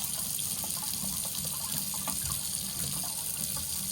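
Tap water runs steadily over fresh ginger being washed for a green detox juice, a constant close rushing splash with no talking.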